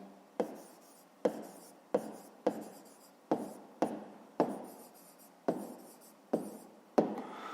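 Pen or pencil writing down a math answer on paper, about a dozen short scratchy strokes in a regular rhythm, close and fairly quiet, with no talking.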